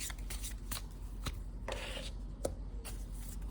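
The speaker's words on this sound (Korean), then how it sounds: "우리 여러분들에게 추석 전후로 해서 어떤 행운이 다가올지 한번 카드를 뽑아보도록 할게요" Tarot cards are shuffled close by in a quiet room, with soft papery riffles and slides coming in short irregular bursts and no voices.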